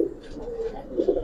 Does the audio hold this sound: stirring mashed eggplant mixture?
no